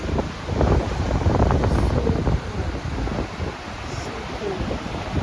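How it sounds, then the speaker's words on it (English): Strong wind buffeting the microphone on a Mediterranean coast in Spain, with rough sea waves rushing and crashing beneath a loud, continuous roar. "Today is very windy day. I'm not even sure guys if you can hear me. Check those waves."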